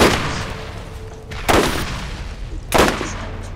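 Gunfire in the Borderlands video game: two sharp, loud shots with about a second and a half between them, each followed by a brief rumbling tail over a steady background drone.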